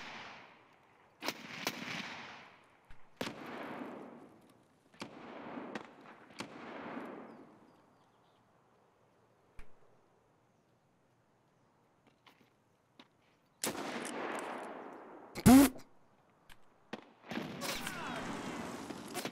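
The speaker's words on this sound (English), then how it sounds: "That's someone else that threw that nade." Explosions and gunfire in the shooter game Escape from Tarkov, several sharp loud bursts with decaying tails separated by silence, including a heavy grenade-like blast, plus brief voice sounds.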